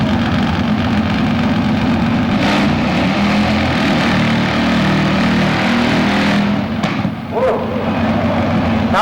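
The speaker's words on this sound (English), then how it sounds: "Jay Turner, you heard that thing backfire pretty good" A racing truck with a 132 cubic inch Deltron 4-cam motor and B&K transmission roars loudly and continuously, with a few sharp pops near the end as it backfires.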